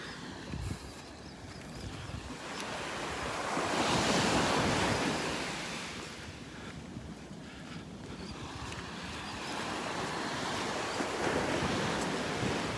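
Ocean surf rolls onto Marco Island's 4 Mile Crescent Beach in Florida, a steady wash of breaking waves that swells and eases, with wind buffeting the microphone throughout.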